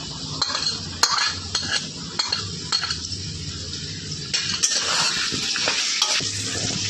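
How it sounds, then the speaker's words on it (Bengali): Spices and ginger paste fry in a pan with potatoes for a vegetarian Bengali dish, giving a steady close sizzle broken by repeated sharp clinks and scrapes of a metal spoon stirring against the pan. "মশলাটা আমাদের ভাজা ভাজা হয়ে গেছে"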